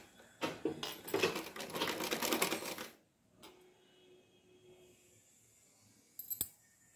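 A sewing machine runs fast for a few seconds, stitching a piece of a blouse, then stops, followed by faint handling sounds and a short clink near the end.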